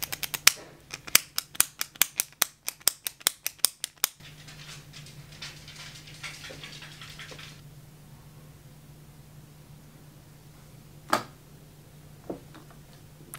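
A twist-up concealer stick being clicked up, a rapid run of about twenty sharp, close clicks over four seconds, followed by quieter handling and a couple of isolated clicks later.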